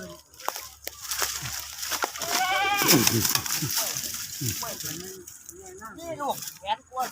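Goats at a livestock sale bleat repeatedly in wavering calls, mixed with frequent talking and crowd noise nearby.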